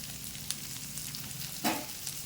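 Onion, green chili and curry leaves frying in a pan over low flame, a steady quiet sizzle with a brief louder crackle near the end, no voices.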